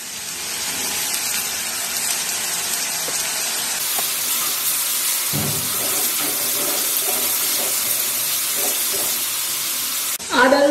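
Ginger garlic paste frying with onions in a hot pan gives a loud, continuous sizzle that jumps in intensity partway through, with a few stirring scrapes and a clatter at the end.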